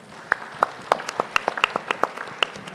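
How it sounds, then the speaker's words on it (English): Sparse audience applause at an international conference on carbon markets, a thin scattering of individual claps, fairly quiet and irregular, with no talk over it. "So join me in giving them a big round of applause"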